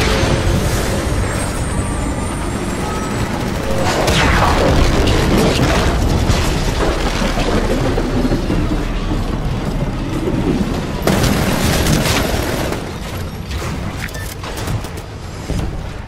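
Heavy weapons fire against the Sentinel capital ship in the Titanfall Attrition match, a loud continuous barrage of booming blasts and mechanical clatter with bursts of explosions, no voices.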